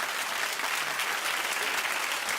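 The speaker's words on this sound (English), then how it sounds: "keep clapping. No, clap louder" A studio audience at a daytime talk show bursts into sustained applause, a thick, even wash of many hands clapping close and loud with no break.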